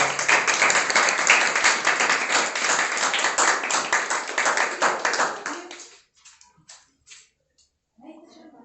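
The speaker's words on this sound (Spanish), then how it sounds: "Un aplauso." An audience at a book collection presentation breaks into dense, loud applause lasting about six seconds, then it fades to a few scattered claps before a voice begins speaking.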